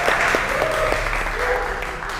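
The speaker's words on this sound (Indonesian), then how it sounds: "tepuk tangan dulu buat" Applause for a student in a high school sociology and civics classroom, steady clapping from the class filling the clip, with a voice briefly heard over it.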